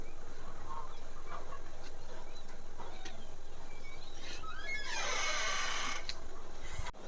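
Chickens cluck and squawk on an organic farm outdoors, with a burst of louder overlapping calls near the end over steady background noise.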